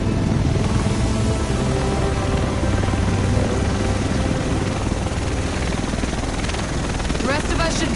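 A video game helicopter arriving over a reclaimed city, steady loud rotor thrum and engine roar throughout, with a faint rising whine near the end.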